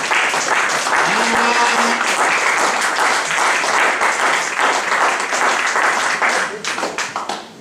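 Church congregation applauding and cheering during a sermon, a dense, sustained wash of clapping at a steady level that thins toward the end, with scattered voices mixed in.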